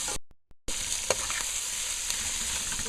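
Beef stew ingredients with cinnamon and clove fry in a pot, giving a steady, fairly close sizzle after a brief dropout, with a couple of soft stirring clicks.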